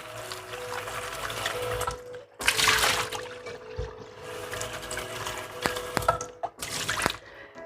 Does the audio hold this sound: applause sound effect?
no